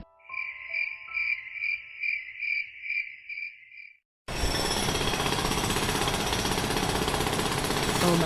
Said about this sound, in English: Who's ever using a jackhammer at 2 in the morning better stop it.